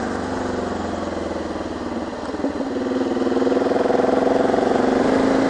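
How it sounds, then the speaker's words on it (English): A heavily loaded touring motorcycle engine drones steadily at close range on a Greek road, a continuous low hum with a slight swell in revs partway through. "Then there's me on this crazy motorcycle loaded up."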